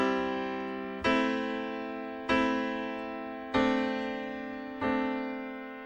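Sustained piano chords struck in a slow progression, four attacks spaced about a second apart with long decaying tones, played alone with no talking.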